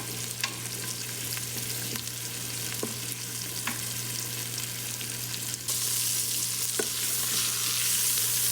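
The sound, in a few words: chicken thighs searing with garlic and onions in Instant Pot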